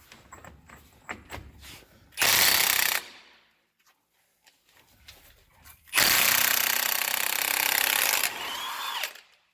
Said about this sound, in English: Will the Milwaukee 1/2" impact take off this axle nut?